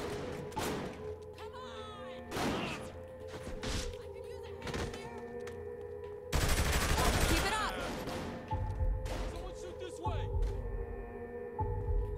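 Gunfire from a Saints Row 3 Remastered shootout, loud blasts of shotgun fire and other weapons in bursts, with a dense volley near the middle, mixed with game noise.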